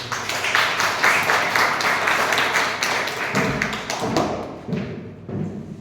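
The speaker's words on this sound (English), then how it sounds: "Toastmaster Kaveri, please give a round of applause." Audience at a Toastmasters meeting clapping together, a dense close patter of hand claps lasting several seconds and thinning out toward the end.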